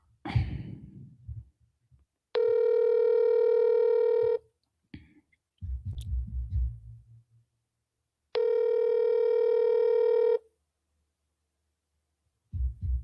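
A phone call rings out with two long electronic tone bursts separated by low muffled handling and clicks, then cuts off as the call goes to voicemail; close, clean, no talk.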